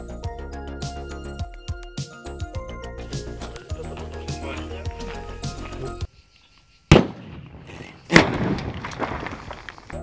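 A pyrotechnic charge goes off on a film set: two sharp, loud blasts, one around the seventh second and another just after the eighth, each with a crackling tail. Music plays before them, followed by a brief near-silence.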